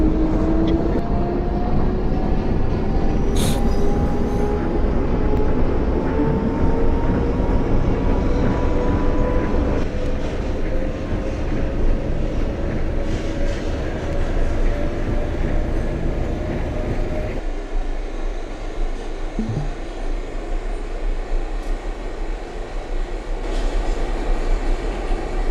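An NYC Subway R142A train in the OpenBVE simulator runs with a loud, constant rumble and motor whine whose pitch rises gradually, then the tone drops to a steady roar with a brief clank near the end.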